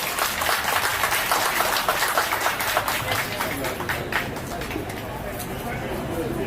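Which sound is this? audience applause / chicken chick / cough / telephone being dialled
audience applause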